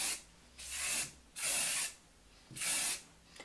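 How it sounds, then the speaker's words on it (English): Hairspray hisses onto styled hair in three separate bursts of about half a second each, close and crisp, with quiet pauses in between. "So you don't want to spray too much hairspray"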